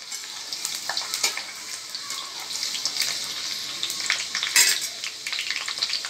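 Vegetables for veg chowmein fry in a pan, giving a steady, faint hiss of sizzling with small crackles and occasional light stirring clinks.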